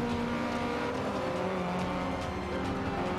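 A race car in Forza Motorsport 5 overtakes with a steady, loud, high-revving engine drone, surrounded by continuous racing engine noise with no pauses.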